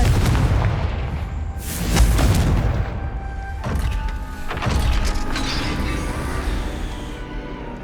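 In the Hogwarts Legacy video game, a Confringo spell blasts a gate, producing a deep booming explosion followed by a second heavy rumbling impact and fading debris noise. The effect is loud and close, with no talking.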